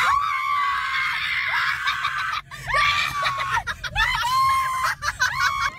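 Fans crowd a street around a star actor and scream in loud, high, overlapping shrieks that rise and fall with brief dips and excited voices.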